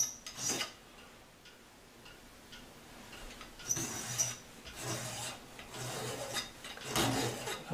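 Hand filing on an ivory guitar nut blank, taking a little off the edge, with close, raspy strokes in bursts separated by short pauses.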